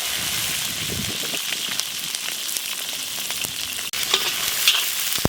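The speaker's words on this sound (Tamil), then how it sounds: "600 கிராம் உரிச்ச சின்ன வெங்காயம் சேர்த்துக்கிடுவோம்." Peeled small shallots, 600 g, fry with cardamom and other spices for a wedding-style chicken gravy, giving a steady, close, loud sizzle with a few scattered crackles and no voices.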